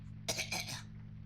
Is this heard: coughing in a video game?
yes